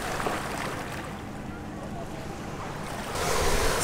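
Surf washing onto a rocky beach in Zadar, Croatia, a steady broadband rush with some wind buffeting the microphone, swelling louder near the end.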